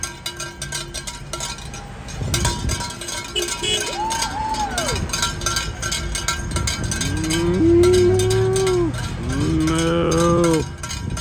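Several moo-like calls rise over a noisy outdoor crowd at a May Day protest, probably a person imitating a cow, with bell-like clanks nearby; the loudest calls come late and blend into steady traffic and crowd noise.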